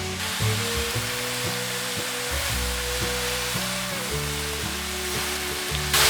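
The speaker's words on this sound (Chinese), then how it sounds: "黑木耳，还有豆干，快速的拌炒" Black wood ear fungus and dried tofu are stir-fried in a wok with a steady, loud sizzle throughout. Background music with sustained tones plays under it.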